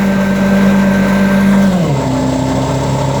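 Pro Chem Everest truck-mount carpet cleaning machine, a 650 hp unit, running loud and close, its steady engine drone dropping in pitch as it settles to idle.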